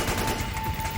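Rapid P90 submachine gun fire in a Metal Gear game, a short dense burst of shots lasting about a second.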